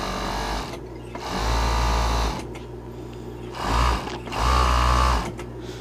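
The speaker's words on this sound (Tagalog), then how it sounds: "Tingnan natin kung mapuputol yung karayom kasi may tumutunog yung overlock." An overlock sewing machine stitching a blouse runs in close, loud bursts, starting and stopping four times with a steady mechanical whir.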